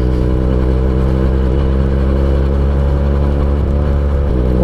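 Benelli TNT 249 S motorcycle engine revving steadily, a loud, continuous multi-harmonic drone with slight pitch shifts as the revs rise and dip, heard close up with no talking.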